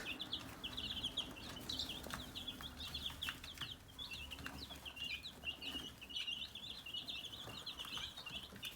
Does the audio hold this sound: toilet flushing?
no